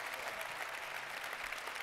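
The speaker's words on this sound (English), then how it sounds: "So round of applause for these guys," A business club audience gives a brief, steady wash of applause, fairly faint and even for just under two seconds.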